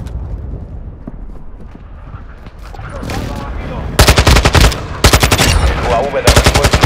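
Rapid automatic gunfire from Modern Warfare 2 multiplayer on PS5 in Invasion mode. A quieter, busy battle bed gives way to loud, close machine-gun bursts that hammer through the final three seconds.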